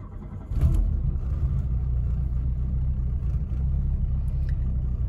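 A 1990 Peugeot 205 GTI 1.9 engine fires up with a short cranking burst, then settles into a steady, close, low rumbling idle that holds without a break.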